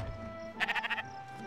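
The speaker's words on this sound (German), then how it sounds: "Hier ist so ein Schaf." A sheep in the video game Spiritfarer lets out one short, wavering bleat with a rapid pulsing quaver, clear and near over a quiet game soundscape.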